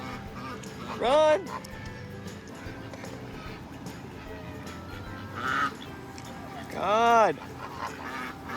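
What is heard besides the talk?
flock of ducks and geese quacking and honking in a cemetery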